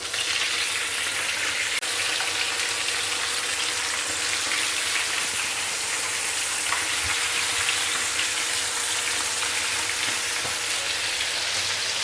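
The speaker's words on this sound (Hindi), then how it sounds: "फ्लैट फ्राई पैन में हम इसे अच्छी तरह से फ्राई करेंगे" Chicken drumsticks fry in hot oil in a flat frying pan, a steady bright sizzle with crackles and occasional pops, close and continuous throughout.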